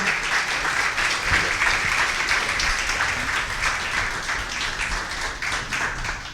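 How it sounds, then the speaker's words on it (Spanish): A church congregation applauds after a sermon guest is thanked, a dense, sustained wash of many clapping hands that stays loud and even for over six seconds. "Gracias, un aplauso"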